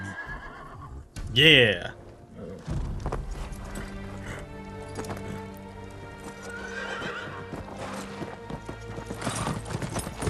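A horse in Ghost of Tsushima gives a sharp neigh, followed by clip-clopping hooves and game music, with a short spoken word mixed in.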